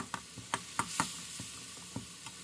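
Minced pork for Thai holy basil stir-fry sizzling in a pan as its juices cook off, with a run of sharp spatula scrapes and taps at an uneven rhythm over the frying hiss.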